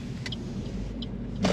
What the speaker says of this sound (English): Keeping in the left lane, accelerating out.